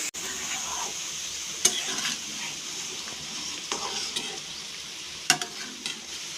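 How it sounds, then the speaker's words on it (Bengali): Repeated clinks and scrapes of a ladle against metal as boiled whole mung lentils are moved from a pressure cooker, with soft wet plops into a sizzling wok, close by and irregular. "একটা হাতার সাহায্যে প্রেশার কুকার থেকে তুলে তুলে কড়াইয়ের মধ্যে দিয়ে দিচ্ছি"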